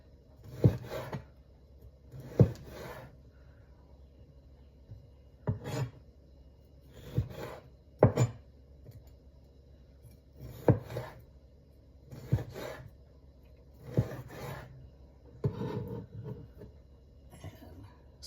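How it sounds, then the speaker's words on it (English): Knife slicing peppadew peppers into strips on a board for an Italian meat and veggie pizza, with about nine sharp, evenly spaced chopping taps over a soft rustle, close and fairly quiet. "cut our pepperdews into strips as well"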